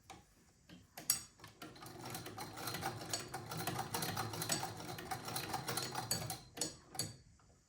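An antique sewing machine, a simple forward-only model, runs with a quick mechanical clatter that starts up, holds steady for several seconds, then slows and stops.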